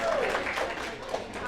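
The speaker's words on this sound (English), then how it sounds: "Can we give him a round of applause for hosting us?" Audience applause breaking out to honor the host of a wedding vendors' business gathering: steady broadband clapping from a crowd at moderate volume, sustained throughout, with some voices mixed in.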